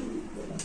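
A short, low, soft coo from a black male Mundian pigeon at a pigeon market, heard close and quiet as a brief single call fragment.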